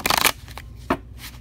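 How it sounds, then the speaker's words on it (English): A deck of long, stiff tarot cards being shuffled by hand, a brief close riffling burst followed by a couple of softer card taps. "kind of a little bit difficult for a smaller hand like mine to shuffle them"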